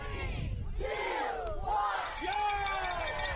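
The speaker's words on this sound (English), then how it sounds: "Cheering on the winner at a pig race" A crowd at a pig race in Atkins, Iowa, yells and whoops for the winner, a dense, loud roar of excited voices rising and falling throughout.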